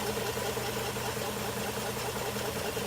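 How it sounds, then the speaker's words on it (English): A 1960 XK Ford Falcon engine, nearly 50 years old, idling steadily with an even low rumble and faint tappet chatter, close and moderately quiet, with no voices. "Listen to the way that engine's running."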